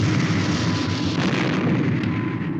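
A single gun shot fired at sea, a heavy boomy blast that fills the moment and rumbles on with a dense low roar, loud and close, with no talk over it.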